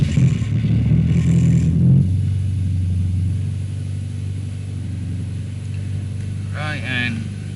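Turbocharged 1.6-litre engine in a Nissan Sentra B13 cranks and catches, settling into a steady, loud low rumble with a brief rev early on; a short chirp or squeal appears near the end.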